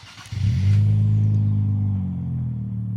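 A Nissan Z with its VR30 engine starts up: a brief starter whir, then the engine catches into a loud, deep rumbling flare before settling to a steady low idle close by.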